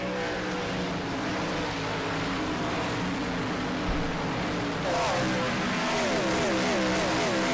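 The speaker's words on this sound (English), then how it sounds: "seeing a field of NASCAR Cup cars restart single file" Retro-style NASCAR Cup cars racing at Richmond, a steady engine drone from the field with a rising rev of a car accelerating near the end, heard at moderate distance.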